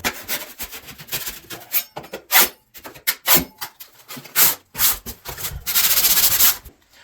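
Someone hand sands dried drywall mud with quick, uneven scratchy strokes, close and fairly loud, each rasping pass separated by short gaps, ending in a slightly longer rub.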